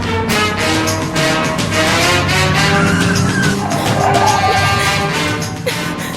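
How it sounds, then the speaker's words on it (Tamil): Vehicle pulling away and driving off, a loud close engine roar that builds in pitch and holds before easing slightly at the end, with no talking. "அண்ணா வண்டி எடுங்கண்ணா."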